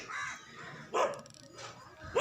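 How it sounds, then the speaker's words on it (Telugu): A dog barks a few times at a short distance, sharp separate yelps spaced out over a quiet background. "అక్కడ నన్ను చూసి డాగ్ అయితే మరుగుతుంది"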